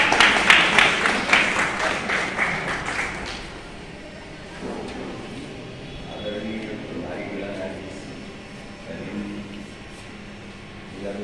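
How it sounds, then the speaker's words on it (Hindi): Audience applause welcoming a family court judge at a national Lok Adalat in the Khagaria court: loud rhythmic clapping for about three seconds, fading out as a voice begins speaking. "जोरदार तालियों से स्वागत करेंगे"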